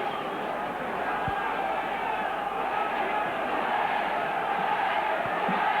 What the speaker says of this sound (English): A great atmosphere here at the Willows. Near capacity crowd.